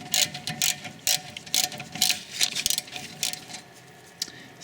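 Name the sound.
tool undoing rear brake caliper bolt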